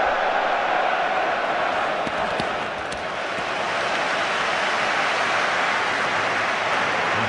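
A large England football crowd in a stadium roars and chants in a steady, dense wash of noise that swells slightly but never drops away.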